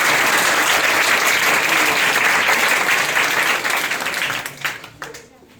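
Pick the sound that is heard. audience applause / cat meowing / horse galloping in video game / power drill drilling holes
audience applause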